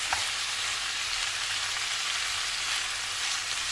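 Pepper and tomato paste sizzles steadily in a pan, a bright, even frying hiss with faint stirring scrapes, close and moderately quiet, without any talking.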